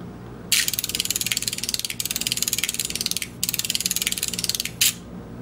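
A flip-digit display clock mechanism starts up with a rapid, even train of mechanical clicks. The ratcheting runs in long bursts, broken by a few short pauses, and ends with a final pair of clacks, loud and close.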